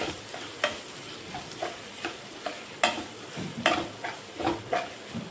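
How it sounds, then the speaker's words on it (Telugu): Green chillies go into onions frying in a pan, raising a close, steady sizzle. Rhythmic scrapes of stirring recur about every half second, with no speech. "మనం కట్ చేసి పెట్టుకున్న పచ్చిమిరపకాయలు కూడా వేసుకుందాం."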